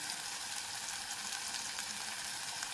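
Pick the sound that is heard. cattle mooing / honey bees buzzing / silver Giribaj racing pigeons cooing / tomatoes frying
tomatoes frying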